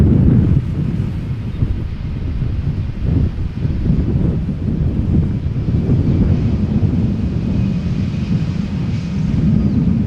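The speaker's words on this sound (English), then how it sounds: "The wind is blowing mostly from the south." Wind blows steadily at Amsterdam Schiphol Airport as a loud, continuous low rumble buffeting the microphone, with no distinct gusts or talking.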